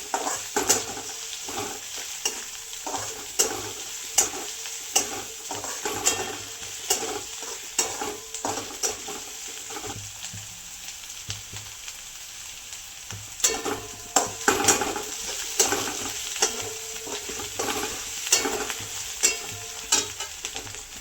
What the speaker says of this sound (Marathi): कुटून ठेवलेली मिरची आणि लसूण आहे तो टाकलेला आहे ते पण सगळं चांगलं परतून घ्यायचं